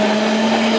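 A blender whirs loudly at a constant high speed, blending a smoothie with water and ice, in a brief uninterrupted burst.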